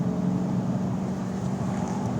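Interior of a 2013 Ford Mustang Boss 302 crossing consecutive road bumps at Laguna Seca, a steady low engine and road drone with faint thumps from the firm suspension, no talk.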